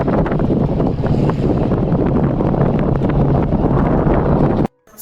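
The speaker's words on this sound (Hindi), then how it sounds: "चेक करें यार, कितनी तेज हवा चल रही है" Strong wind in Kumrat Valley buffets the microphone with a loud, continuous roar and gusty rumble that stops abruptly just before the end.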